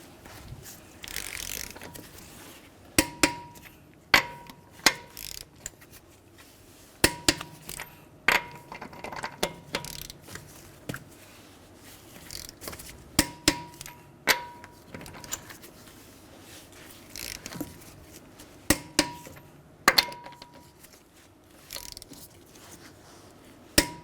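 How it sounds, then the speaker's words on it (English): A torque wrench tightens lug nuts on a 2011-2017 Honda Odyssey to 94 foot-pounds in a crisscross pattern, producing close, sharp ratcheting clicks in short irregular bursts over about twenty seconds, with no talk. "we're going to torque our lug nuts to 94 foot-pounds in a crisscross pattern"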